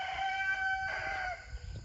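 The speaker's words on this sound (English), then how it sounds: "I hear my rooster. He's out there hollering." A single rooster crows loudly nearby on a small farm, one long drawn-out call that trails off into quiet background noise.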